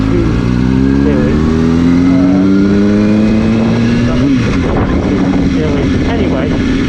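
A 2005/2006 Kawasaki Ninja ZX-6R 636cc motorcycle ridden on residential streets, its engine droning steadily and loudly with rising and falling pitch as it revs and shifts, under constant wind noise.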